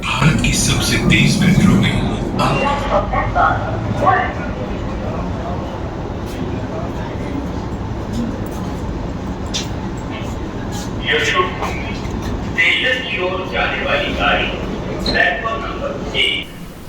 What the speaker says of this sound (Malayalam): ഡൽഹിയിൽ വന്ന് അങ്ങനെ മെട്രോയിൽ യാത്ര ചെയ്താൽ മതി